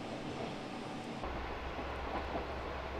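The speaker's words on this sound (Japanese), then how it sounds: "山あいの田園風景を走る列車、" A single-car JR Geibi Line train running through mountain countryside, a steady rolling rumble of wheels on rail with a low engine drone heard from on board, moderately loud and unbroken.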